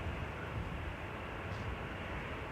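An EasyJet Airbus A320 approaching Manchester Airport makes a faint, continuous broadband engine rumble, steady and distant, with nothing else standing out.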